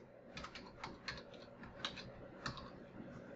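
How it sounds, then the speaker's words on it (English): Quick, light clicks of a computer keyboard being typed on, irregular bursts of keystrokes close and fairly quiet, with no voice over them. "we're going to type in"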